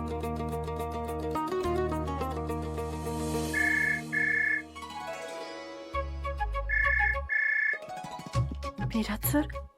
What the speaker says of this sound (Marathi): विराट सर हे का फोन करतात?